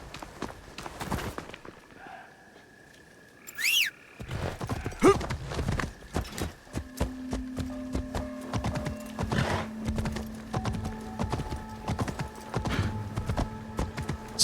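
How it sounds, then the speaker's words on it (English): In a video game, a summoned horse arrives after a whistle, its hooves clip-clopping in a quick steady rhythm that grows louder and continues over ambient game sounds and hum. "I should actually just call my horse."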